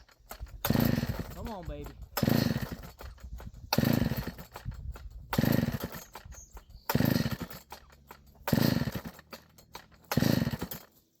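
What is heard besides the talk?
McCulloch chainsaw engine trying to start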